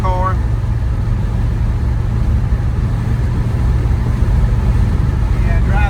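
A 1967 Chevrolet Chevelle SS 396 V8 cruising down the road, its engine a steady low rumble from inside the cabin, while people talk over it throughout.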